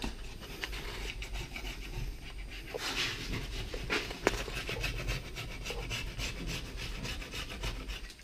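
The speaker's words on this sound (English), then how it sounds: "All right, back with the scraper." A scraper rasps over the window glass of a 1976 Bobcat Wagon, grinding off old, long-stuck film in repeated close, scratchy strokes with occasional sharp clicks and faint background noise.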